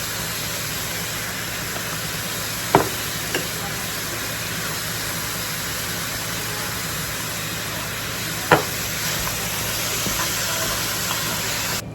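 Ground beef seasoned with salt and pepper frying in a pan, a steady broadband sizzle and hiss running throughout with a couple of brief utensil clicks, no talking.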